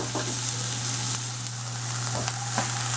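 Diced onions sizzle in melted butter in a pan, a bright steady frying crackle with a few sharp pops and stirring clicks, close and continuous.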